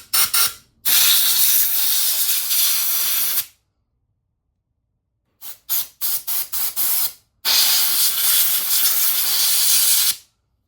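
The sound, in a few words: spraying water through a yard debris collection system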